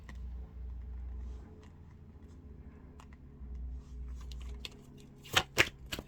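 Tarot cards shuffled and drawn from a deck, soft papery shuffling giving way to two sharp snapping flicks near the end, close and quiet with no talk.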